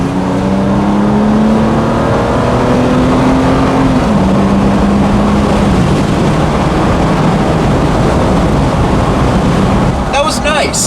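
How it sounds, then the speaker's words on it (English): A Toyota Tacoma TRD pickup's exhaust drones loudly and steadily as it accelerates onto a freeway, its pitch rising and shifting between gears over heavy road and wind noise. "hopping onto the freeway, we're going to see how this truck sounds underneath the load"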